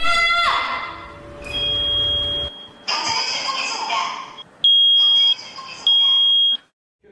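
A shrill scream-activated emergency alarm sounds after a loud adult female scream, giving long piercing tones broken by pauses, followed by repeated high beeps.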